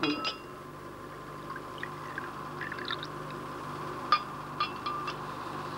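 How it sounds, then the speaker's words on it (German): Drink poured from a bottle into glasses, soft liquid trickle with a few faint glass clinks spread across a quiet room, brief voices nearby. "So, mal einschenken."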